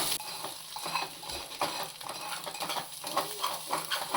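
Spices such as turmeric, salt and pepper powder are stirred in a hot frying pan for mixed non-veg fried rice: a continuous close sizzle with repeated rhythmic scraping of a spatula.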